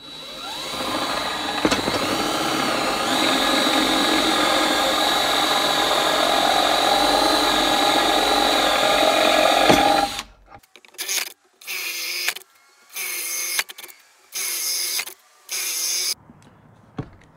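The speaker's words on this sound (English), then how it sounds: "I'm gonna start with the Forstner bit." A drill boring deep holes in wood with a Forstner bit, first a long continuous whine, then several short bursts of drilling separated by pauses.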